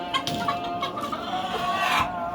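A red hen clucks close by in quick, repeated bursts, with other fowl calling faintly around it.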